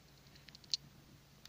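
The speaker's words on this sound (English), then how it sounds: "we can hear all that clicking. That's me doing the whole headlight." A headlamp being adjusted at night, giving a short run of faint, quick clicks with one sharper click in the middle, close by in a quiet setting.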